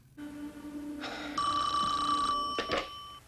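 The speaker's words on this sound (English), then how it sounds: "So the phone rings again" A telephone bell rings in a horror film, a sustained electronic ring with bright tonal bursts that stops abruptly, heard over quiet background with no talk.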